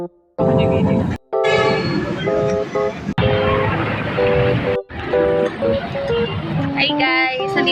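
A Manila LRT light rail train rumbles along with squealing, tonal wheel and motor sounds, interrupted by brief gaps; people talk faintly over the noise.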